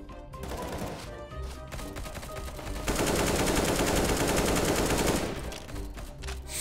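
Sustained bursts of rapid CS:GO gunfire during a competitive match, dense and loud, swelling into a heavier stretch of continuous shooting midway before easing back to scattered shots.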